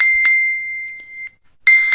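A phone's alarm rings after a fitness smart band triggers its find-device search, bright electronic tones pulsing in short bursts, stopping briefly, then resuming loudly.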